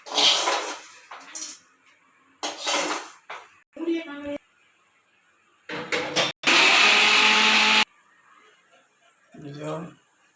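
Pirandai chutney being ground in a kitchen mixer grinder, a loud steady whir in one sustained burst lasting over a second, set between stretches of someone talking.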